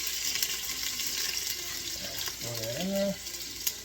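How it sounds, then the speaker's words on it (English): Vegetables hit hot oil in a soup pot for Italian wedding soup, giving a steady hissing sizzle as someone speaks briefly over it. "now that our oil's nice and hot, You take the vegetables and let in that pot."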